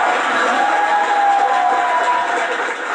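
A live audience in Havana responds with steady applause and crowd noise, a continuous wash of clapping and cheering that holds evenly for a few seconds.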